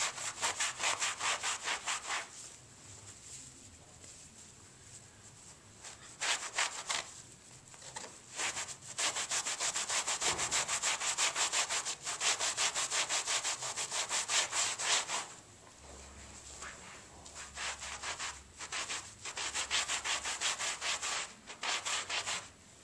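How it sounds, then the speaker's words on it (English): Vigorous back-and-forth scrubbing of a ketchup-stained cotton rug, loud close rhythmic strokes in bursts with short pauses between, and no talking. "I'm scrubbing"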